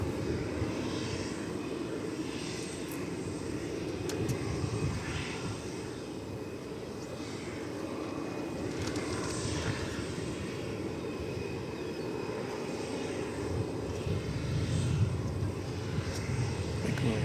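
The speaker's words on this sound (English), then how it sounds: "It's going to be American Flight 1119, an Airbus A319 from San Luis Potosí." American Airlines Airbus A319 jet arriving at DFW Airport, a steady broadband engine roar that holds across the whole stretch at moderate, distant-sounding loudness with no talk over it.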